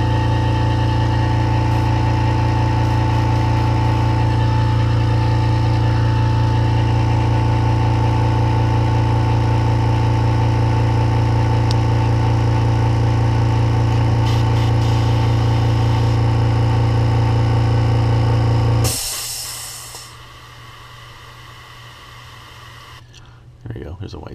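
An air compressor runs steadily with a loud, constant hum and engine-like vibration during topwater lure painting, then cuts off near the end, leaving a quieter room.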